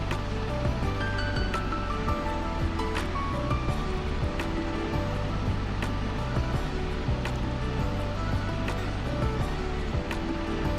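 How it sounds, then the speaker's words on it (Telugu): Apollo fish pieces frying in hot oil, a steady dense sizzle and crackle that continues unbroken and fairly loud throughout, with a low background hum beneath. "చూడండి ఎంత బాగా ఫ్రై అవుతున్నాయో."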